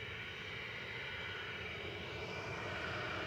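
A Lufthansa airliner coming in to land at Manchester Airport, heard as a faint, distant, even jet-engine drone with no voices over it.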